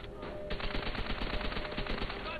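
Rapid close-range automatic gunfire in Call of Duty: World at War, a steady stream of sharp shots rattling continuously at moderate volume with no pauses and no voices.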